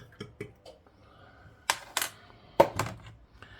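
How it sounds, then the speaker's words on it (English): A few sharp mechanical clicks from a glass kiln, irregularly spaced and fairly close, with faint softer ticks between them in a quiet room. "You might be able to hear some clicking. My kiln is on at the moment, my glass kiln."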